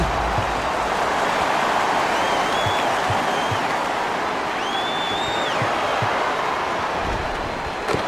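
A basketball arena crowd cheers and roars continuously in the EA Sports NBA game, a Minnesota Timberwolves at Sacramento Kings matchup, with a steady dense wash of noise, sneaker squeaks and a few thumps underneath.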